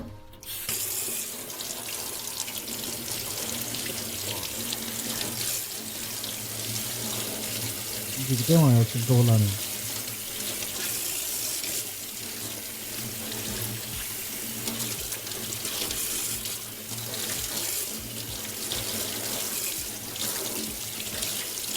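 Tap water runs steadily into a sink while smoked bacon is rinsed to wash off excess salt, a continuous close splashing flow heard throughout, with a voice speaking briefly in the middle.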